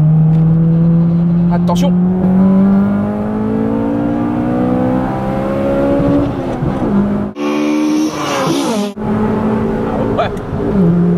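A tuned Honda Ferio VTi, prepared for track and road, revs up loudly close by, its engine note climbing steadily before a brief gear change, then pulling again while a voice speaks over it.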